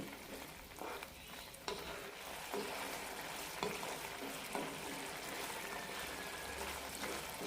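Curd chutney frying in a pan while being stirred, a steady soft sizzle with faint scraping strokes, close and continuous, no voices.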